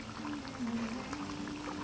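Pork chop frying in a pan, giving a continuous crackling, bubbling sizzle at moderate level, fairly close, without any voices.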